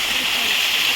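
Water pours steadily into a channel, a close, even rushing hiss that holds at the same level throughout the brief moment.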